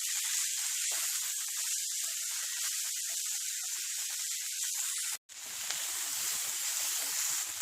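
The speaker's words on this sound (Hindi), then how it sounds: "अच्छे से मिक्स करते हुए फ्राई कीजिए।" Okra and tomato fry in hot oil on a high flame, giving a steady, loud hiss and sizzle that carries on almost unbroken, with one brief drop to silence.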